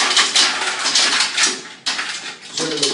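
Ice cubes are tipped into a blender jar to make a fruit batida, giving loud, close clattering and rattling bursts for about three seconds.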